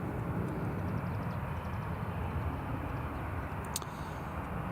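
An EasyJet airliner touches down at Newcastle airport, heard as a broad, steady engine and rolling roar at middle distance that barely changes in level.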